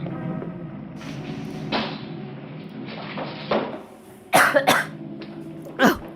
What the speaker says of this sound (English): Oh, I just blew out a candle with my cough.